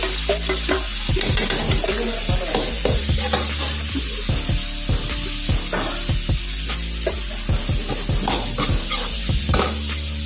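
Onions sizzle loudly in a pan after garlic has been fried, a constant close frying hiss broken by repeated scraping and stirring knocks from a utensil against the pan.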